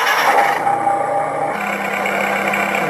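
Electronic tractor engine sound from the sound module of a modified JLB Cheetah RC truck, a steady droning mechanical idle with a shift in pitch partway through, loud and continuous with no talking.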